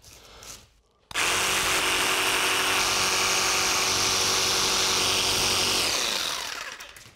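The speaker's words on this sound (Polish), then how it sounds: "Wyżynareczka i docinamy." A jigsaw, called a wyrzynarka, cutting a piece for a wooden key cabinet starts abruptly and runs as a loud, steady buzzing saw noise for about five seconds before winding down.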